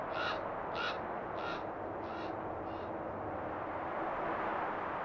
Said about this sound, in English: It ignores the mobbing of the ravens